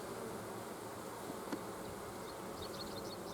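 Honey bees hum steadily around an opened hive frame resting on regular foundation, a faint, even drone with no voices.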